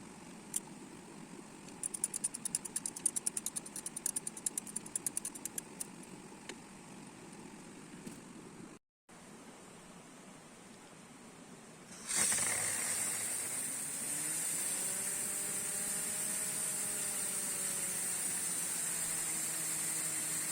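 Two hoverboard hub motors run in series as a micro hydro generator, driven by water through 5–8mm nozzles. Rapid mechanical clicking comes first, then a steady whirring hum with slowly shifting whine tones, heard close up without speech.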